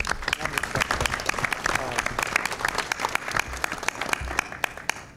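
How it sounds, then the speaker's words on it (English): Lively applause from attendees at a community planning task force meeting, with loud individual claps standing out sharply over a continuous crowd patter for about five seconds. "let's give all of you a round of applause for this"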